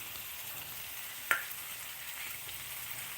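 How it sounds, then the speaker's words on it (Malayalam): Onion, ginger and garlic sauté in a pan with a faint, even sizzling hiss and one sharp tap of a utensil partway through, with no voices. "അപ്പോൾ അത് രണ്ടു കൂടി നമുക്ക് ഒരു ഗോൾഡൻ ബ്രൗൺ ആകുന്നത് വരെ വഴറ്റിയെടുക്കണം"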